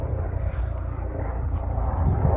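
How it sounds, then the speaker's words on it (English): A small helicopter passes overhead as a steady, broad low-frequency drone with rotor rumble, holding fairly constant loudness and swelling slightly toward the end, with no talk. "A little chopper coming here now, disturbing this."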